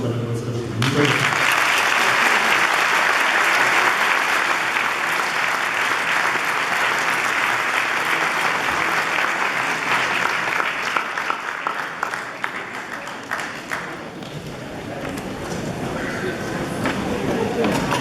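A lecture audience gives a professor sustained applause, steady loud clapping from a large crowd that fades slightly toward the end; a voice speaks briefly at the start.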